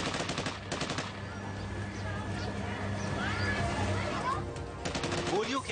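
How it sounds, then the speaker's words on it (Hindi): Bursts of rapid gunfire crackle in quick clusters at the start and again near the end, with a mid-level rumble and scattered sounds between them. "गोलियों की ऐसी ही आवाज"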